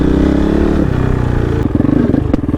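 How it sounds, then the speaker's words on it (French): Kove Dakar rally motorcycle engine pulling away in first gear, running loud and close with an uneven, jerky pulse and clattering surges as it sets off. "elle fait des à-coups au démarrage un petit peu"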